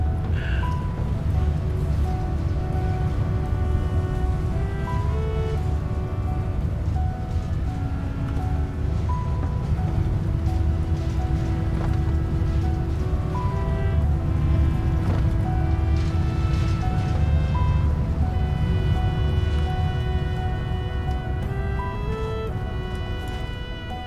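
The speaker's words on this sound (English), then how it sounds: "This is Green Path from Hollow Knight, remixed by Insane in the Rain." A remixed version of the Green Path theme from the video game Hollow Knight plays steadily throughout, with layered sustained tones and shifting melodic lines over a full, continuous backing.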